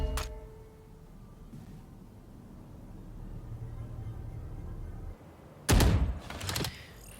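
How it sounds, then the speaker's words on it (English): Gunfire bursts in a Valorant esports match, with a couple of sharp loud volleys late on as bullets whiz past a player, over a low steady game-ambience bed. "Masick sees a couple of bullets whiz past his head."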